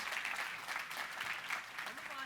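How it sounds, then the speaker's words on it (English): Distant, soft applause from an audience at a film festival awards ceremony, pulsing clapping running steadily beneath a speaking voice. "A warm round of applause for them"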